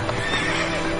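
A horse whinnies while its hooves clip-clop nearby, loud and steady across a brief moment of a ranch scene in a Mexican telenovela, with no voices.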